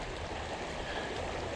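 Mountain creek water in Arkansas runs in a steady, broadband rush with a constant level, close and continuous, with no voices.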